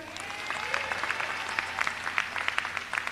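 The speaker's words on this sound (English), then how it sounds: "Keep clapping." Continued crowd applause at a community center ribbon cutting, steady clapping that swells slightly, with faint voices mixed beneath.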